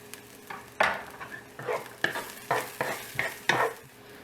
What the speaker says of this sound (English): First step is to put in the garlic, to cook it a bit,